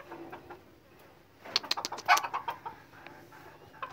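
A young decoy jungle fowl (ayam pikat) in a cage gives a burst of short, shrill calls mid-clip, loud and close, with quieter bird sounds before and after.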